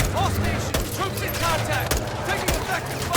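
Rapid gunfire in Call of Duty Modern Warfare 2, shot from inside a vehicle, with quick repeated shots under constant background game noise while someone talks throughout.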